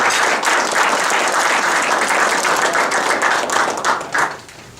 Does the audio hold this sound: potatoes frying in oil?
no